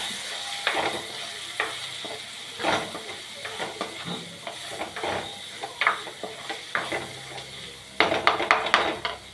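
Masala for a nuts chicken curry sautéing in a pan, a steady sizzle broken by repeated scraping stir strokes, with a quick run of louder clattering knocks near the end.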